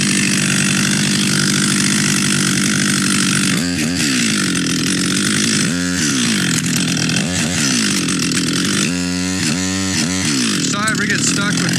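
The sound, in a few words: chainsaw cutting a fir tree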